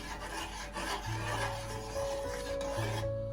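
A spoon stirs a pumpkin spice latte mixture in a pan over medium heat, giving a steady scraping, rubbing rasp that runs throughout at close range, with a faint hum beneath and no talk.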